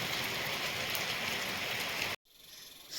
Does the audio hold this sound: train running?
no